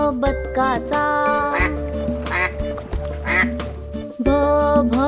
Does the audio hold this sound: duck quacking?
yes